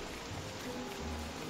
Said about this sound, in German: Regen macht Depri